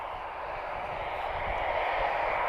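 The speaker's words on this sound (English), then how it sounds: "So this is Air France with the Sky Team livery" An Air France Airbus jet in SkyTeam livery roars with a broad, steady engine hiss and rumble at Lisbon Airport, holding constant and slightly building over a few seconds.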